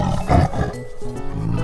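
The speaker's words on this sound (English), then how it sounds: "Tiger. Every tiger has a unique stripe pattern." A tiger gives a single deep, rumbling roar, loud and close, fading into a lower growl.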